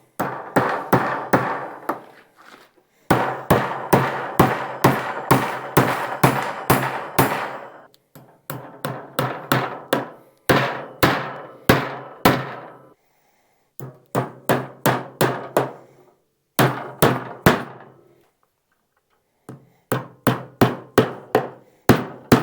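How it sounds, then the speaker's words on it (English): Fence staples hammered into a wooden garden gate panel, sharp metallic blows in quick bursts of several strikes separated by short pauses, close and loud with no talking. "we'll go ahead and get this panel stapled down"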